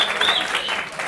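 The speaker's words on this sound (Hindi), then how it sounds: "यार तालियां आनी चाहिए भाई के लिए" A short burst of classroom applause for a student during a lecture: a close, busy patter of clapping hands with a brief high whistle-like tone near the start.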